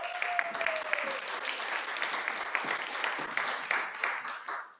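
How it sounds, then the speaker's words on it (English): An audience at a sales meeting gives a round of applause, a dense, even wash of many hands clapping together that holds steady for a few seconds and then fades, with no talking over it. "Give yourself a round of applause."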